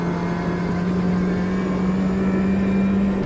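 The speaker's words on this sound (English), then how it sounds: "as I completely over rev 4th gear there" A Ginetta G40 Cup car in Automobilista 2 holds a loud, steady high-revving engine drone, over-revving in fourth gear without a break.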